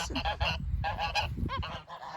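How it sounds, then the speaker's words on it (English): Geese honking near a backyard garden with young apple trees, a dense run of loud, overlapping nasal honks in quick bursts with brief gaps, with no voices over them. "Friggin' geese."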